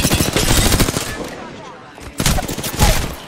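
Rapid automatic gunfire in the shooter game Arenas rattles in two dense, close bursts, with a short lull between them and a voice talking over the shots.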